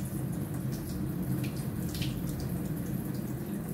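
Water runs steadily from a tap while hands are rinsed of soap, a continuous broadband splashing hiss at close range with faint drip-like splashes on top and no speech.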